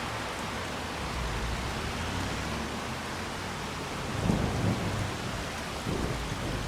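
Steady rain in Farming Simulator 25, a constant hiss of falling water with low rumbles of thunder rolling in toward the end, heard alone without talk.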